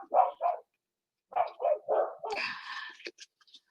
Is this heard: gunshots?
no